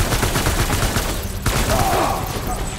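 Dense, continuous rifle gunfire from combat in the video game Death Stranding, loud and steady across the whole stretch, with a voice partly underneath.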